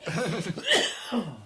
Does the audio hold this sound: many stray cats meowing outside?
no